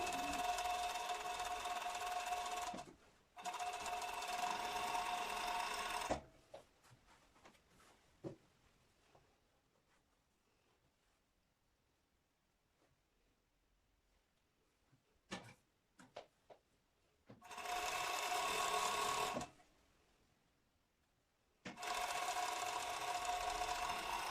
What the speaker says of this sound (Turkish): Ben overlock makinesinde direkt dikmeyi tercih ettim.